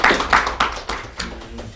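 An audience at a legal-education symposium gives a short round of clapping for three presenters, a few loud close handclaps over a brief thinning applause.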